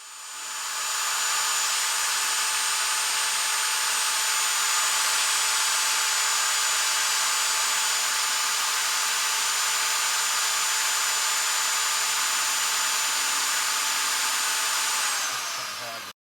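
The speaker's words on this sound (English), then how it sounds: "Now I'm using a drill that actually plugs into the wall versus a cordless one" A corded electric drill drilling a snapped, hardened wheel bearing bolt on a Dodge Charger whines at a steady high pitch for about fifteen seconds without pause, close and loud, then winds down at the end.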